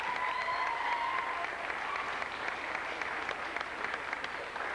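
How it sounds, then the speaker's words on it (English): An audience applauds musicians at a memorial concert, a sustained round of clapping from a moderate crowd in a hall, even and continuous at moderate distance. "Give them another nice round of applause then"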